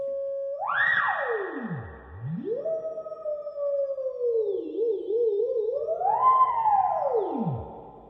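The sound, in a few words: spring reverb on guitar amplifier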